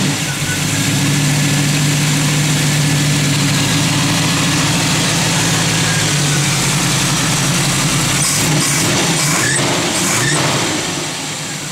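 1967 Chevrolet Nova V8 with a mild cam and overdrive transmission idling nearby, a loud, steady low rumble with a slightly uneven lope, running on for about twelve seconds without talk.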